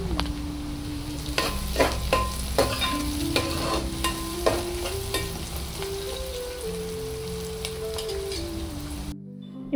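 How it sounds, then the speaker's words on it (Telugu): Green chilies go into a sizzling gongura chicken masala, a constant close fry with repeated ladle scrapes and taps as the pan is stirred, ending in abrupt quiet. "నెక్స్ట్ పచ్చిమిర్చి కూడా యాడ్ చేసి ఒకసారి కలుపుకోవాలి."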